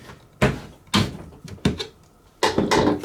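A screwdriver pries a plastic crank away from a hose reel, giving five sharp, close clunks and snaps at irregular intervals. The last one is a longer rattling pop.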